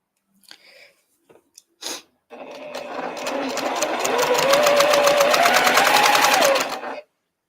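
A sewing machine stitching quilt pieces, starting with a few short bursts and then running in a steady, rising whir for several seconds before stopping, close and loud.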